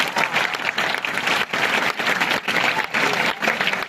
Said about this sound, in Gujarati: જ્યાં સુધી આપણે એમને આપણા પરિવાર તરીકે ફીલ ન કરાવીએ ત્યાં સુધી આપણી તાળીઓ ગુંજવી જોઈએ।